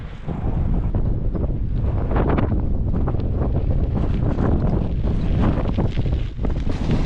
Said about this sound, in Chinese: 又起大风了，比刚才的风更大呀！